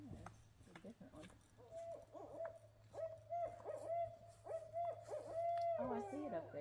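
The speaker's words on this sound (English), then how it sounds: "This is what kind of owl? That's not the barred owl." Owl, not a barred owl, hooting in woods along the Appalachian Trail in Vermont, a series of faint, distant, repeated hoots with low background hum and quiet human sounds.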